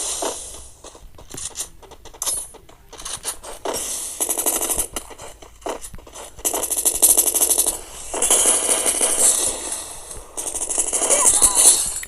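Rapid bursts of gunfire in the mobile shooter game Free Fire, loud and close, arriving in repeated volleys with short gaps between them.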